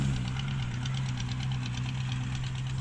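A ten-wheeler truck's diesel engine runs close by with a loud, steady low rumble and a continuous knocking throb, unbroken and with no talk.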